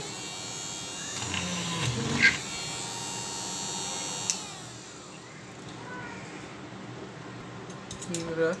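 A homemade electric drill machine runs with a steady whirring buzz while drilling a hole, with a couple of brief louder bites partway through. The motor sound stays constant and close throughout.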